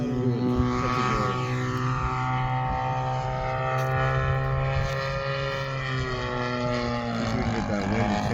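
A radio-controlled Hangar 9 P-51 Mustang model warbird with a 20cc gas engine drones loudly on an extended approach, its buzzing engine tone shifting in pitch as it swings past and back, continuous throughout.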